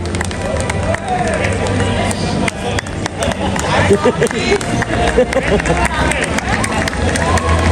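At an annual award show, a large crowd applauds an honoree, the clapping loud and rolling under an announcer's amplified voice and general hall hubbub throughout.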